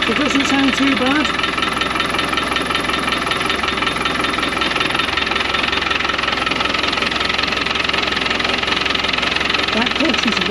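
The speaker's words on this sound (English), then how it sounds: "That clutch is rattly, and it gets worse." A Land Rover Defender 110 Overlander engine runs steadily in a workshop with the clutch in, its clutch giving off a rattly, knocking clatter. The noise is loud and continuous, and brief voices come in near the start and end.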